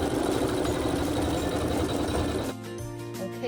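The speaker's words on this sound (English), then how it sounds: "we're going to sew a satin stitch" An embroidery sewing machine running a satin stitch hums and rattles steadily at close range, then shifts to a lighter, tonal motor whine for the final second.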